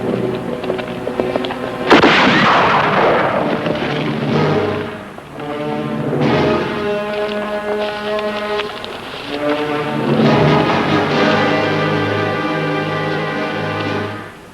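Rifle shots ring out in a western TV drama about a marksman with a spiked rifle, a couple of loud sharp cracks standing out against a sustained orchestral score.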